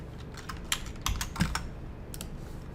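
Typing on a computer keyboard, a short irregular run of close key clicks and taps, a few louder strikes clustered in the middle, with no voices.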